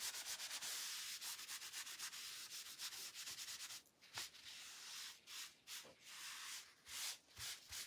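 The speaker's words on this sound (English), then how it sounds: "So I'm just putting a little bit of the wax on here" A towel rubs wax onto a wood round door hanger in quick, dry back-and-forth strokes, close and fairly loud at first, then breaking into shorter, spaced swipes.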